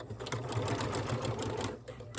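Sewing machine back stitching a grocery sack, a steady close motor whir with rapid needle chatter running continuously throughout at an even pace.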